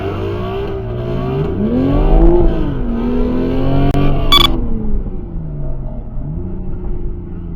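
A Dodge Charger engine revs hard during a burnout and holds at high pitch, rising and falling in long surges, with a loud rumbling roar close by.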